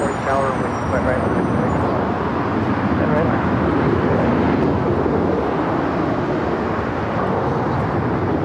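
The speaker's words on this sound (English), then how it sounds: "this is Emirates Flight 215 coming in from Dubai, A380 Super wearing the updated livery" An Emirates Airbus A380 arriving on LAX runway 24 right with a loud, continuous broadband engine roar that stays steady throughout, mixed with outdoor ambience and talk.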